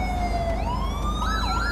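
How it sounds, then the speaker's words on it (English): A police car siren in GTA 5 wails loud and close, its tone sliding up and then starting a rapid warbling yelp. "let me go ahead and kill the siren"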